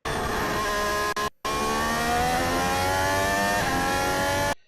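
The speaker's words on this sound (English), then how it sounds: "if you just listen to the engine note, you'll get a sense of his accelerator input" A Formula 1 race car engine at Monaco revs hard through turn 14, a loud, high, continuous whine climbing in pitch as the throttle opens, with one brief cut before the note builds again.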